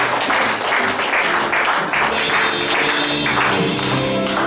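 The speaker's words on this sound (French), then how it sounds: "Acclamation pour le Seigneur." A church congregation breaks into dense, sustained applause and acclamation for the Lord, with voices cheering underneath the steady clapping.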